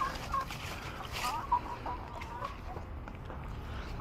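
Chickens on a farm clucking softly with a few short calls, fairly close, over a low steady outdoor background; no talking.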